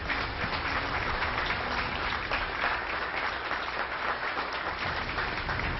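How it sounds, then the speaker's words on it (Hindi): A crowd at a space center applauds the Artemis 1 launch, a steady, dense roar of clapping at constant loudness for several seconds with no other sounds standing out. "इन लोगों ने तालियां बजाकर"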